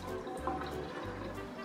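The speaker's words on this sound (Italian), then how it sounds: "Si apre l'acqua." Tap water runs into a drinking glass at a home sink, a soft, steady trickle lasting under two seconds with no talk over it.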